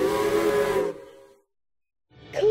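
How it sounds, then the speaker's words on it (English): A low steam whistle from a toy-style engine at the docks sounds loud and sustained for nearly a second, fades into silence, then a second whistle blast begins at the end. "did you hear that low whistle sound?"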